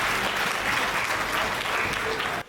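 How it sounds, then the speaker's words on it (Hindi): An audience at a Hindi comic poetry recital applauding loudly, dense clapping from many hands sustained for a couple of seconds before cutting off abruptly. "एक बार जोरदार ताली बजा दीजिए"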